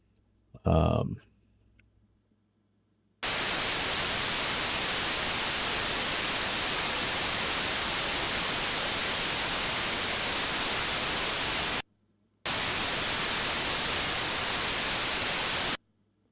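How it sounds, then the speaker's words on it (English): Loud, hissing white noise switches on abruptly, runs steadily for several seconds, cuts out briefly, then resumes; a short voice sound comes before it. "So now we got white noise, which is random as all get out."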